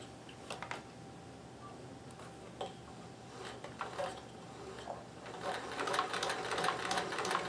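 A sewing machine stitches a button on with a button sewing foot, a close, quiet run of rapid mechanical needle clatter that grows busier and louder toward the end, with a few scattered clicks.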